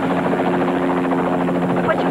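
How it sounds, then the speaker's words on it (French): Helicopter rotor and turbine drone, steady and loud throughout after landing, with a voice speaking over it. "Hélico, ça y est, nous avons atterri."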